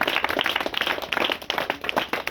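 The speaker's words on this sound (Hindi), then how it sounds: "क्या बात है, जोरदार ताली होनी चाहिए।" A classroom of students claps together in a dense, steady patter of many hands, close and continuous with no talk.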